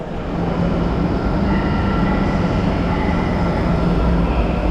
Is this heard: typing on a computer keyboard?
no